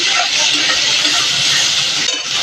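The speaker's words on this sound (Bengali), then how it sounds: "এটাকে ভালো করে ভাজা করে নিতে লাগে প্রথমে ফ্রাই হবে" Brinjal with turmeric and salt fries in a hot pan, making a loud, steady sizzling hiss that carries on throughout with no speech.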